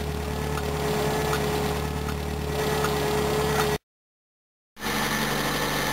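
An old Volvo car engine runs with the revs held slightly above idle and the air conditioning off, a steady droning hum with a faint whine, cutting out briefly to silence before resuming.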